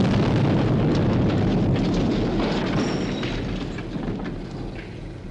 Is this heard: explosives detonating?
yes